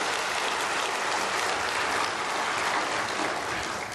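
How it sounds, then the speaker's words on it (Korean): A church congregation breaks into loud, dense applause during a sermon, a steady unbroken roar of many hands clapping, with no voices over it. "이 사람 위해서 박수 좀 쳐줘봐."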